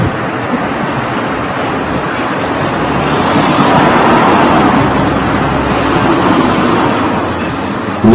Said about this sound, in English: Note the cars going past still make 80 decibels.